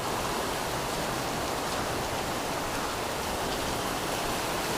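Steady rain falls outdoors in Florida, a dense, even hiss of drops close by that holds without pause and with no voices over it.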